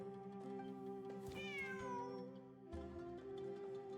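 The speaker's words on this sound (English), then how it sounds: "The cat!" Cat meowing in the video game Genshin Impact, one clear rising and falling meow over a steady musical backdrop, fairly quiet.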